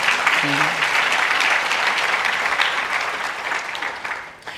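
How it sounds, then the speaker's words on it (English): A conference crowd applauds loudly and steadily at an opening plenary, a dense wash of clapping that fades slightly toward the end, with a brief voice early on. "It needs a round of applause."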